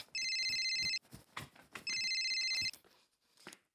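A telephone rings with two long electronic bursts separated by a pause, sounding close and clear, with someone speaking briefly between and after the rings in a domestic scene.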